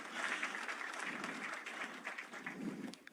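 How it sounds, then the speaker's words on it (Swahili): A crowd at a Taifa Gas launch event in Mombasa applauds an arriving guest with continuous, dense clapping, heard faint and distant throughout. "Tunaweza tukampigia makofi pia akija"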